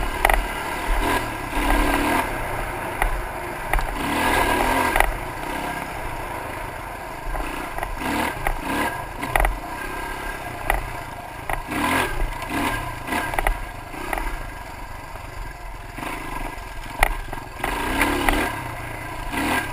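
Dirt bike riding a single-track ORV trail in Michigan, its engine revving and droning loudly and continuously up close, with rattling clatter as the bike bounces over the terrain.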